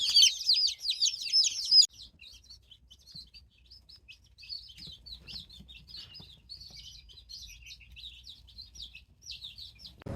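Baby chicks in a brooder chirp in high, rapid peeps, loud and close at first, then continuing as a softer, scattered chorus of tweets.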